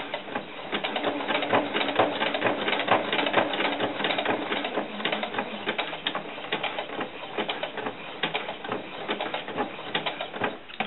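Sewing machine stitching across the bulky overlap of a doll skirt's fabric, a steady rapid mechanical chatter of needle strokes running continuously at moderate, close level with no talking.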